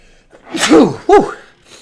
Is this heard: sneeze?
yes